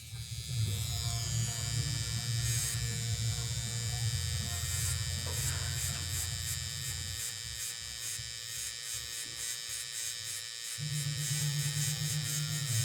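A tattoo machine fitted with a number 12 9-round liner needle buzzes steadily and close, its electric hum dipping briefly before resuming at full strength.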